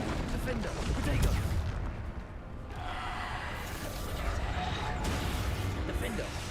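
Dense, rumbling spell blasts and explosions in Hogwarts Legacy combat, a continuous loud barrage with a player's voice heard over the din.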